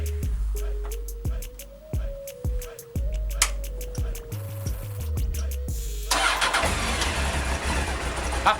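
A Honda 900 Fireblade motorcycle engine starting off a jump starter: a string of rapid starter cranks and sputters, each rising and cutting out, before it catches and settles into a loud continuous run near the end.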